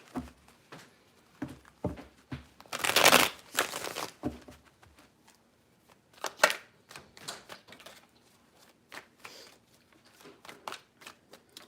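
A deck of tarot cards shuffled by hand in repeated rounds, with one long dense riffle early on and then scattered crisp slaps and flicks of the cards, close and fairly quiet, with no talking.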